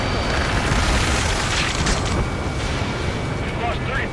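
Gunfire and explosions in the air-combat video game Ace Combat 7, a dense continuous roar of booming blasts and rumble filling the moment at high volume, with radio voices faintly under it.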